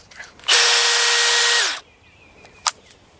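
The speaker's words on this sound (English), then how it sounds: "drill out the wedge, the wooden wedge that's in here" Power drill boring out the wooden wedge in an old axe head, a single loud steady whine lasting about a second before winding down, followed by a faint clink.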